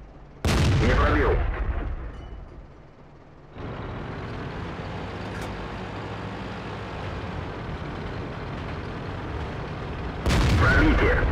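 Tank cannon fire in the World of Tanks game, a heavy boom at the start and another near the end, with a long rumbling engine and track drone between them. Both blasts sound close and loud.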